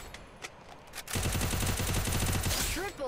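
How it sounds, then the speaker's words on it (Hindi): Rapid automatic gunfire rattles loudly for over a second in the Free Fire video game, a dense burst of shots following a few quieter clicks, then a brief pause before firing resumes. "ये देखो भाई ऊपर की साइड पे है बंदा, इसको फटाफट से मारते हैं।"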